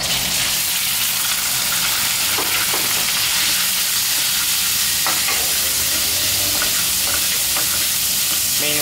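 Pork neck stir-fries over high heat in a pan for ginger pork, a loud continuous sizzle with scraping and clacking of a spatula, close up and without talk.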